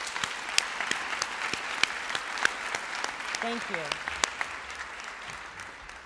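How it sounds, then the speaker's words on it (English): A scholarship luncheon audience applauds with steady, even clapping throughout, and a voice briefly speaks over it partway through. "I'd like for you to give them a round of applause now."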